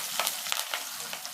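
Curry leaves frying in hot oil, giving a brief steady sizzle with small crackling pops, close and fairly quiet.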